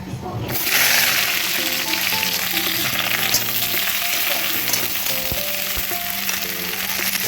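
Sliced okra sizzles hard in hot oil in a wok, a loud steady frying hiss that erupts almost at once and carries on with faint stirring and occasional clinks underneath.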